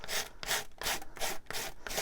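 Quick rhythmic rasping strokes of an emery board filing paper edges, about eight brisk passes close up with no voices.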